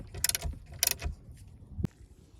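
A socket wrench removes a 10 mm bolt on a Mercedes-Benz, giving two quick rattling clicks of turning and a sharp metallic tap as the bolt comes free, quiet and close.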